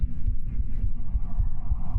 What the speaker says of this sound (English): we still got the same heartbeat